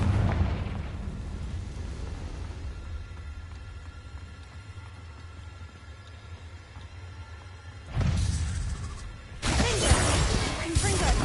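Confringo fire spell explosions in Hogwarts Legacy: an initial blast fades into a low rumble, then two loud, crackling bursts with shattering debris erupt near the end.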